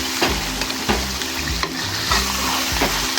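Chicken karahi with whole green chillies sizzles steadily in a pan while a spoon scrapes and stirs it in repeated strokes, with a low hum underneath and no talk.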